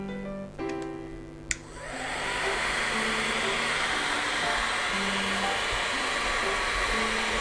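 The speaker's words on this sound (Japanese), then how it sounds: "ドライヤーのモードをだんだん強くしてみる。" A hair dryer powered by a small portable power station roars steadily and loudly after a brief start-up click, its broadband blowing noise filling the clip and building as the mode is stepped up toward turbo.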